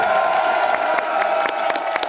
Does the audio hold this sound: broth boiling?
no